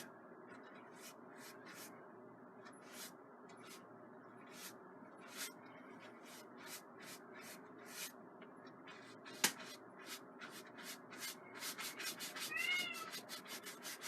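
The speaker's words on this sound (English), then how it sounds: "There's my cat looking for me." A cat meows a few short times near the end, close by, over steady rhythmic brush strokes as a landscape is painted with a 1-inch brush.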